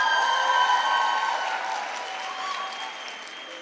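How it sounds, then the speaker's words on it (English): A graduation audience applauds a sign language interpreter, with a full burst of crowd clapping that starts strong and gradually thins and fades toward the end. "Let's give her a round of applause."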